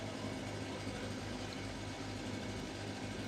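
A vehicle engine idles just outside a window, giving a steady, even, low humming drone that stays muffled and moderately quiet throughout.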